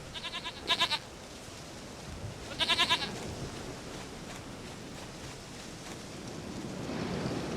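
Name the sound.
goat bleating in video game The Witcher 3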